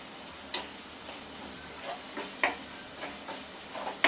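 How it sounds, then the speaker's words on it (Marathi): Crushed chickpeas stirred into a sizzling masala in a pan: a steady soft sizzle with a few sharp spoon scrapes and taps at irregular intervals, close and fairly quiet, with no voices. "हे छान मिक्स करून घ्यायचं याच्या मसाल्यासोबत"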